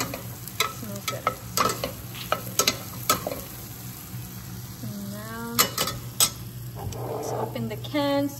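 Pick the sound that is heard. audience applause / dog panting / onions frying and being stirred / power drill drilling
onions frying and being stirred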